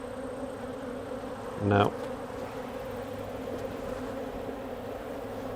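Honeybees drone steadily around an open hive during a fall inspection of hive #9, a continuous low insect hum with a brief louder burst of buzzing close by partway through.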